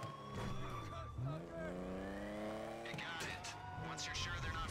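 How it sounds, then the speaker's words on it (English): A car in GTA 5 Online accelerates hard and drives straight off a ship, engine revving up through rising gear-like pitches with a brief tire squeal, loud and close over a steady game background. "Once you're in the car, hold the accelerator, and simply drive straight forwards, straight off the ship"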